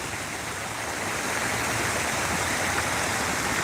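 Flowing stream water at a pond, a steady, dense rushing wash with no pauses.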